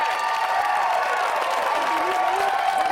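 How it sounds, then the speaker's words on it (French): Game-show studio audience applauds and cheers for arriving contestants, a steady crowd roar of clapping with a tonal hum running through it and a faint voice rising near the end. "On les applaudit à partir de 1,"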